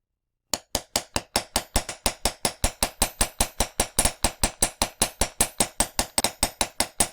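A jewelry hammer strikes metal on a block to harden it, a rapid, steady series of about thirty-five close, loud, sharp metallic taps with no talking.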